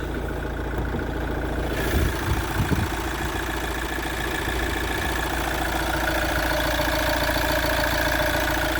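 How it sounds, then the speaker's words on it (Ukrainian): A 2019 Opel Vivaro van's 1.6 diesel engine idles steadily up close, a constant low chugging drone that holds an even level from start to finish. "Моторчик працює ідеально в ній."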